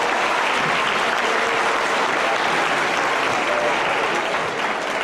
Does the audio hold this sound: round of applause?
yes